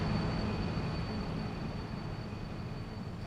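Steady low rumble of a train rolling past in Farming Simulator 22, a broad continuous drone with faint high whine, loud and fading slightly over a few seconds with no talk.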